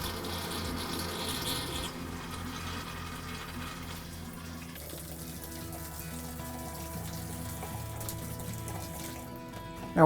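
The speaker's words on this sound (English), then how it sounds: "Let the tap run till all the pink runs out of the tap and you see nothing but pure water coming out of it." Water runs from a tap in a travel trailer being de-winterized, a steady stream that shifts in tone partway through as the flow settles, with faint clinks and a louder knock at the end.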